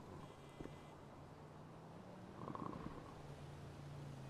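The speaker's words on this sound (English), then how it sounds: "Whoever lives here, they snore well loud." Loud snoring in the GTA RP game NoPixel 4.0 rumbles low and steady like a purr, with a stronger swell partway through, faint and alone.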